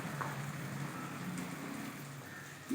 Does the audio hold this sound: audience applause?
no